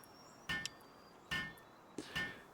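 A character hammers to repair a weapon in the video game Palworld, striking three distinct metallic clangs at an uneven pace over quiet background ambience.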